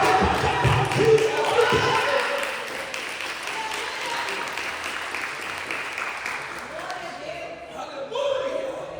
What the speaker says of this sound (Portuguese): Alguém pode aplaudir?